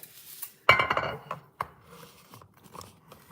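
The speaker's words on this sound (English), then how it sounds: "So I have this little glass pan here, right?" A small glass baking pan is handled in a kitchen, giving a sharp clattering clink followed by a few lighter knocks and taps, close and fairly quiet overall.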